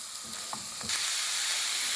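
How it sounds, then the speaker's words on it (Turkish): Steady, close sizzling of chopped onion frying in olive oil, with a few soft stirring clinks near the start before the hiss swells louder. "2 çorba kaşığı sıvı yağda biraz kavuruyorum."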